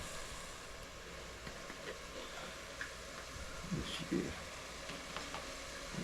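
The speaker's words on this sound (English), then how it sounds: "Check on these old onions right quick. Look like they're cooking down pretty good." Onions frying down in a pan for smothered pork roast, a soft continuous sizzle dotted with light ticks and a few louder spits, close and low in level.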